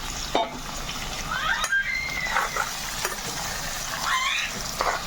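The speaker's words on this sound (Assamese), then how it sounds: "এতিয়া মাংস ফ্ৰাই হৈ আছে" Mutton pieces sizzle in hot oil in a pan, a steady crackling fry with occasional scrapes and stirring clinks, close and moderately loud.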